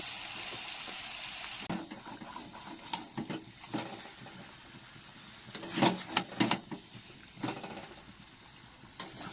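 Spicy red chicken curry with potato sautés gently over a low gas flame, a soft sizzle beneath intermittent stirring and scraping of the pan, fairly quiet and close.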